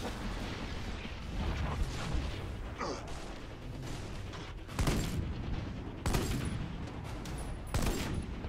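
Sniper rifle shots with heavy impacts in the shooter game Army of Two: The Devil's Cartel, loud sharp bursts near 4.8, 6.2 and 8 seconds over a constant dense battle roar of distant gunfire.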